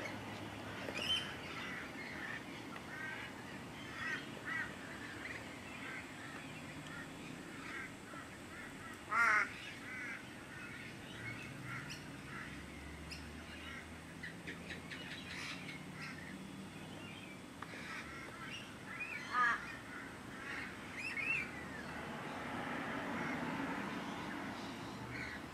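Rainbow lorikeets at a bird sanctuary call during a dominance display, with scattered harsh squawks and screeches, some louder bursts standing out over a steady backdrop of chattering birds.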